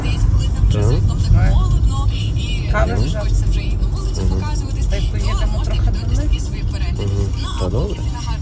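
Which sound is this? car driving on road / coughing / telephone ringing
car driving on road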